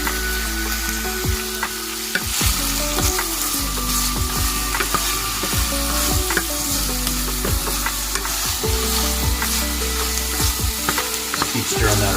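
Vegetables sizzle in bacon grease in a pan while being stirred for a ramen broth base, a loud continuous crackling hiss with repeated scraping and clicking of the utensil throughout, no voices.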